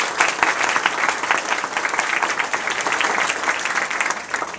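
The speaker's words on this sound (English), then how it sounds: "please give her a round of applause" A room of attendees at a community workshop on Capital Boulevard applauds a presenter, dense sustained clapping at even strength for the whole stretch, with a few voices faintly mixed in.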